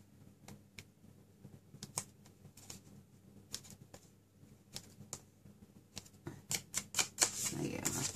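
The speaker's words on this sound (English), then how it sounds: "I'm just going to score it on the other side." Cardstock paper being scored with a scoring tool during card making, a series of faint, sharp ticking and scratching strokes, quiet at first and growing denser and louder toward the end.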